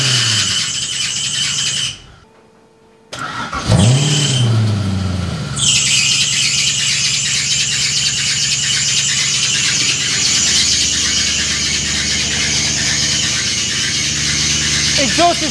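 A loud, sustained high-pitched squeal comes from the V8 engine swapped into a Porsche 986 Boxster track car, running almost continuously over the engine's drone with a brief dropout near the start.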